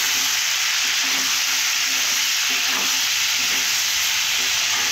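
Ghugni fries and is stirred in a pan, a loud, dense sizzle and hiss running unbroken and close, with faint scraping strokes beneath.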